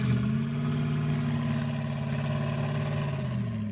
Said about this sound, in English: let's go and hear the startup of this thing real quick